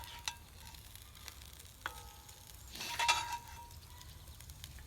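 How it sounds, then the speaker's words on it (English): Sausage and hash browns in a cast-iron Dutch oven sizzle and crackle faintly close by, with scattered pops and a few metal scrapes as the food is stirred, swelling briefly midway. "So we're gonna put the sausage back in there that we had in this little 8-inch Dutch"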